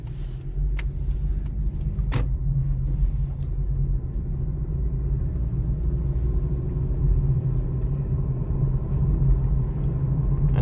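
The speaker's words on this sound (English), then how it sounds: "very bumpy road, just so you can see how the car handles" A 2023 Honda CR-V EX-L rolls along a very bumpy road, heard from inside the cabin as a steady low rumble of road and engine noise, with a couple of sharp knocks from the suspension over bumps.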